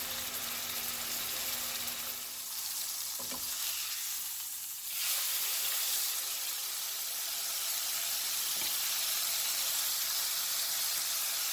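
Chicken breast browning in a pan on a stovetop over medium-high heat: a steady, broad sizzling hiss that dips briefly then returns, continuous and fairly quiet, with no talk.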